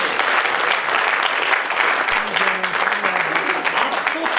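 An audience at a Hindi lecture on family management claps hard in a continuous, dense burst of applause lasting several seconds, with a voice faintly heard underneath partway through.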